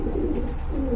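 Pigeons coo in low, soft, rounded murmurs, close and continuous, with no other sound around them.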